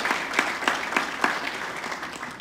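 An audience in a hall applauds the municipal presidents at a Michoacán council ceremony, a moderate round of clapping with a few sharper claps, steady and not very loud.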